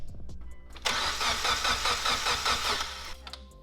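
A Mitsubishi Evo X engine, fitted with a new turbo and new exhaust, is cranked over on the starter to prime the turbo with oil. It makes a loud, steady whirring crank for about two seconds, then stops without catching.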